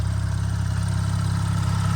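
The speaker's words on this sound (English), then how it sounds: "the car definitely needs some warm up, so that you can hear the burbles throughout the the revs" A BMW 435i engine idles steadily, a low, even rumble running the whole time without any break or change in revs, and no separate exhaust burbles or pops stand out.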